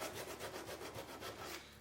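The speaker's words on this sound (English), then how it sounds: "you grab a piece of sandpaper, sand it." Sandpaper rubbing back and forth on the tail of a Canada goose decoy, a steady scratchy rasp in repeated strokes, close and fairly quiet, with no talking.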